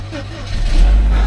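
A car engine cranks and catches, then settles into a loud, low rumbling idle that builds over about a second in a garage of cars being started.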